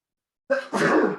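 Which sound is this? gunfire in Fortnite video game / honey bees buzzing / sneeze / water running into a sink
sneeze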